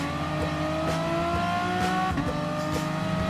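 Group 4 race cars in Gran Turismo Sport, a steady droning engine note with several layered tones holding at a high pitch throughout, loud and continuous with no talk.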